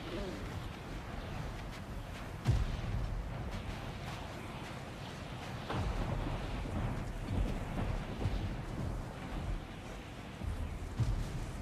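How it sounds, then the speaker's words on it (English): Thunder in the God of War Ragnarok video game, low rumbling rolls over a steady rain-like wash, with a couple of heavier booms; moderately faint and continuous throughout. "Just a little thunder."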